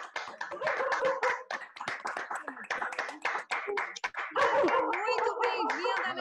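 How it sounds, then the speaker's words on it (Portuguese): A small group in an online meeting applauds a guest doctor with open microphones, producing uneven, sparse clapping that grows denser toward the end, along with a dog barking. "nós vamos bater uma salva de palmas"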